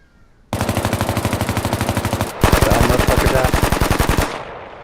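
Sustained machine-gun bursts in a military game, engaging an enemy fire team at a tree line about 600 meters away: loud, rapid, evenly spaced reports, a short gap near the middle, then another long burst that cuts off.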